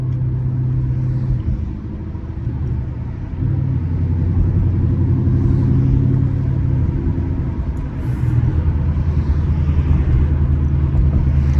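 A 2024 Ford Mustang GT rolls along slowly, its engine giving a steady, loud low rumble that holds throughout with small dips and swells, heard close from inside the car with no talking.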